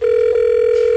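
Telephone dial tone on a call that goes unanswered: one steady, loud, unbroken tone held for the whole second with nothing else over it.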